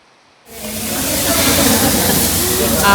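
Water rushing down steps after heavy rain at a temple area in Ujire, a broad, steady roaring hiss that starts suddenly and holds loud and close.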